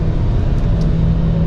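Steady, loud engine drone with a low tonal hum and road rumble from inside a 2024 Ford Maverick XLT AWD as it picks up speed on the highway, continuous with no voices.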